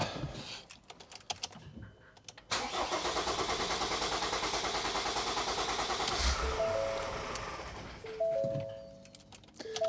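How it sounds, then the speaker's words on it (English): A 2021 Ford Transit Custom 2.0 diesel cranks after several seconds of clicking, fires and settles into a loud, steady, close-up idle, and a few high beeps sound near the end. "Right, let's start it up."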